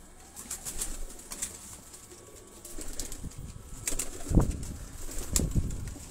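Pigeons on a rooftop in Lahore give soft coos and flap their wings in a few brief bursts, close and moderately loud against a faint background hum.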